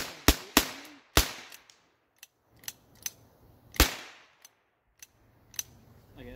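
A 12 gauge shotgun fires 2 3/4 inch, 1 ounce slugs at a range. Several sharp, loud reports sound close by at irregular intervals, mixed with fainter cracks and echoes, and no one speaks.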